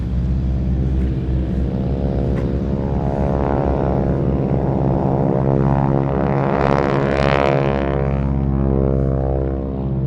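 A World War II-era propeller aircraft at IWM Duxford airfield produces a loud, continuous engine drone with a deep harmonic hum, swelling and shifting throughout as it powers along, with no voices.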